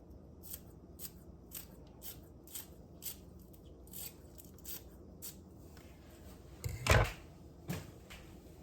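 Green onions being chopped with a knife over potatoes and cheese, a series of soft, regularly spaced cuts with one louder knock near the end.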